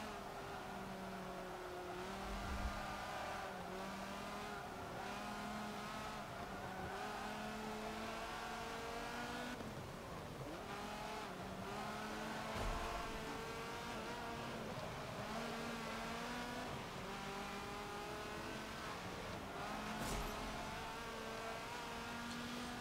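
Race car engine in Forza Motorsport 7, a Sport GT car on a wet track, droning steadily with rising and falling revs through gear changes and corners, loud and continuous throughout with no talk.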